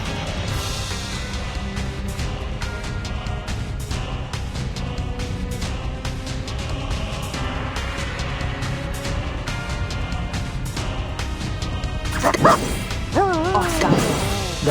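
A puppy in a turn-based video game yips and barks in quick wavering bursts near the end, heard over a dense, loud bed of battle sounds and music.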